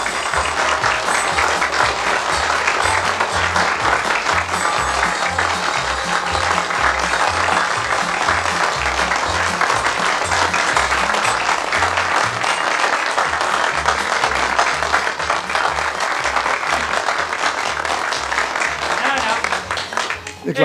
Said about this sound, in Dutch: Ik laat het applaus expres even uitklinken.